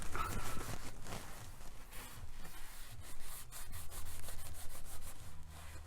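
A rag scrubs oil off a cracked aluminum oil pan with repeated close rubbing and wiping strokes in an uneven rhythm, with a few faint knocks in between.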